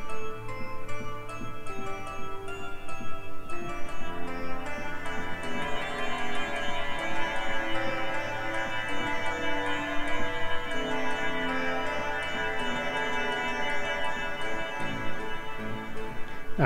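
Omnisphere synth keyboard patch called bold tin keys, bright metallic plucked tones in a steady ticking rhythmic pattern over a sustained chordal bed, moderately quiet and continuous, with no talking.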